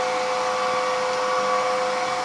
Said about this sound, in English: And we're going to vacuum and wet mop at the same time.